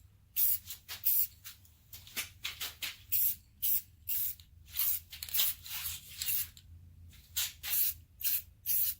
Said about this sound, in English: Wow, this is taking a lot of sprays to get down in there.